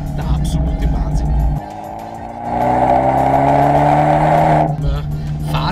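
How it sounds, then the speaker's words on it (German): Abarth 124 Spider with a valve-controlled Monza exhaust revs and accelerates close by, a throaty engine note rising in pitch before dropping back, with someone talking over it. "Die Monza-Auspuffanlage, eine klappengesteuerte Anlage,"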